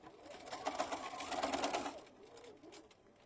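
A sewing machine back stitches the edge of a gardening apron in a quick whirring burst of about two seconds, then a few softer stitches as it slows.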